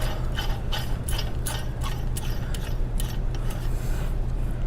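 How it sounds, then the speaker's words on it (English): N-12 nut being threaded by hand onto a stub shaft, a close, steady rhythm of small metallic ratcheting clicks and scraping turns, repeated quickly without pause. "after we get that nut all the way on there by hand"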